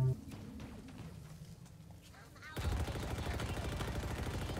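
Vehicle-mounted gun firing in the video game Halo Infinite, a sudden loud stream of rapid, evenly spaced shots bursting in after quieter game noise and continuing steadily to the end.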